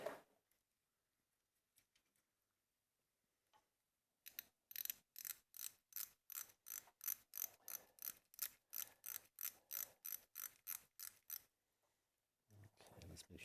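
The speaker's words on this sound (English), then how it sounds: "let's tighten this baby up" A ratchet wrench with a 7mm socket tightens a bolt during a water pump and thermostat job, a long run of loud, rapid, evenly spaced clicks, near and alone, after quieter handling noises.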